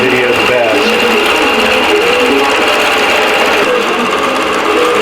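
A computerized IQ longarm quilting machine stitches a pattern into a quilt, giving a steady, close mechanical whir with a constant high hum throughout, uninterrupted and with no talking.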